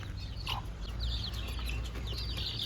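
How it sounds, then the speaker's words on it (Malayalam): Four hens and a rooster clucking and chattering close by, several overlapping bursts of short calls over a steady low background hum, with no talking. "ഇതിൽ 4 പെടക്കോഴിയും ഒരു ചാത്തനും ഉണ്ട്."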